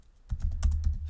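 A short burst of typing on a computer keyboard, a few quick, close key taps in a row.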